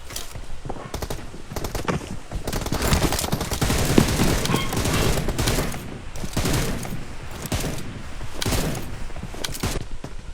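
Dense video game gunfire, rapid overlapping shots and automatic bursts rattling continuously at close range, loud throughout with no clear pauses.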